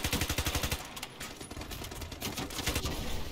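Rapid SMG fire from the shooter game Ironsight, a PP90M1 submachine gun, sounding as a fast rattling burst up close, a short break and then more sustained automatic fire, loud and dense with no talk over it.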